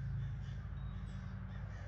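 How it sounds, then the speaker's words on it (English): Crows caw outdoors in a quiet stretch, their harsh calls fairly faint and distant over a low steady background hum, with no one speaking. "Can you guys hear these crows?"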